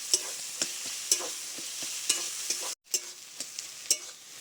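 Spinach stirred with cumin paste in a frying pan, a steady soft sizzle broken by regular scraping strokes about twice a second, with one brief silent gap partway through.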